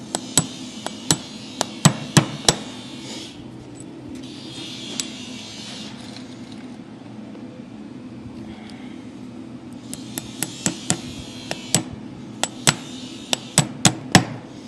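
A farrier hammers Endura-coated slim blade nails into a horseshoe on a barrel horse's hoof, sounding as sharp metallic taps in quick bursts of several strikes separated by pauses, over a low steady hum.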